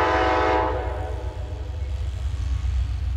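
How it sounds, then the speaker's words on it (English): An Amtrak passenger train passes in New York, its loud horn blasting at the start over the heavy rumble of the cars, which carries on steadily close by with no talk. "Caught the Amtrak."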